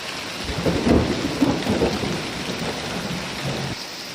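Rain falls steadily on banana leaves in open countryside, a dense close patter layered over low rolling thunder that rumbles on and off throughout, with no voices.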